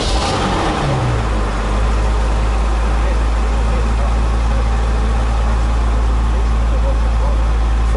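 A Porsche car engine idles steadily with a deep, even hum, loud and close throughout, with a brief rev-like swell at the start.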